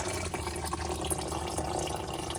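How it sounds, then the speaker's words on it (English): Coolant draining from a Subaru Impreza with a WRX swap, a faint, steady trickling of liquid running continuously in a garage setting, no talking. "Got the coolant draining."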